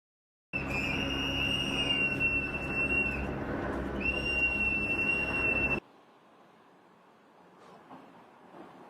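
Activists around the Twin Cities blowing ear-piercing whistles to warn of immigration agents, a loud, sustained shrill blast lasting several seconds with a short break in the middle, then cutting off abruptly to faint background noise.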